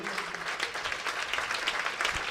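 Cricket crowd applause at a Worcestershire Rapids versus Durham Vitality Blast T20 match, a continuous, even roar of many hands clapping heard at a distance, filling the whole stretch with little else over it.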